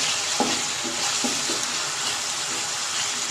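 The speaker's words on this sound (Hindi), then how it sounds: "इसको हम अच्छी तरह से फ्राई करेंगे" Chopped tomato and a green chili frying in a pan as a potato and egg curry is started, giving a steady broad sizzle with a few soft stirring knocks, close and continuous without talk.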